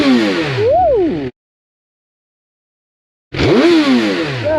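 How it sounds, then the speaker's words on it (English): A 2011 Suzuki GSX-R 1000 motorcycle with stock exhaust revs up twice, each a loud, close rising-and-falling engine blip, separated by about two seconds of silence. "So let's come over here and give you guys a couple revs."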